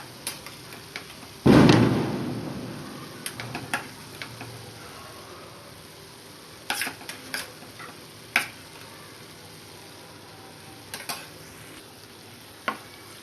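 Onion and coconut paste dropped into a pan with chicken and spices, starting with a sharp sizzling burst that fades into quiet frying, followed by scattered clicks of stirring against the pan.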